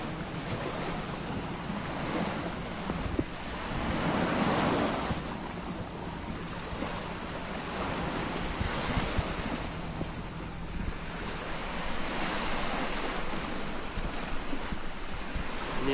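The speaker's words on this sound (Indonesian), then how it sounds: "Ini namanya Pantai Jempol." Ocean waves at Pantai Jempol beach in Sumbawa, a continuous broad roar of surf with rising and falling swells, mixed with strong wind buffeting the microphone, no voices.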